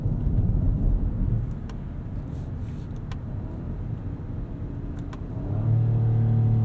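A 2022 Acura MDX 3.5-liter V6 engine hums low and steady from inside the cabin at night, rising into a stronger, deeper drone near the end as it accelerates.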